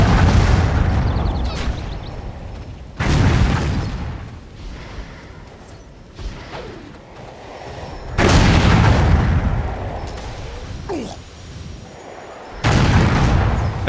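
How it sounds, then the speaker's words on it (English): Heavy booming cannon blasts in Warhammer Online: Return of Reckoning, three big explosions spaced several seconds apart, each rolling off into rumbling debris and smaller pops between them. "The explosions, you see, they're using the cannons."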